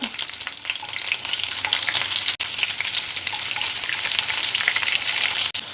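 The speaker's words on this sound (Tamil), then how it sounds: "இந்த வெங்காயம் கொஞ்சம் நல்லா கரியணும்" A steady, close sizzle of onion frying in hot oil for tempering chutney, crackling continuously with a couple of brief breaks.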